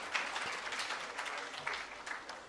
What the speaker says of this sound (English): Please, a round of applause for the previous speakers.